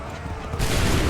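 Musket volley fired by a line of soldiers in Assassin's Creed III, a single loud, close burst of many shots merging into one crackling roar that sustains briefly.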